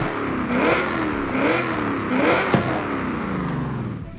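A car engine in Forza Horizon 5 revs up and down in several rising and falling sweeps, with a strong whooshing air-intake tone, loud and close.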